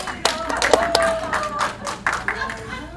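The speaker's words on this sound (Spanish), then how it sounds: "Oye, un aplauso, otra vez ha venido." A few people clap in a small gathering, scattered sharp hand claps spread unevenly across the moment with a voice speaking over them.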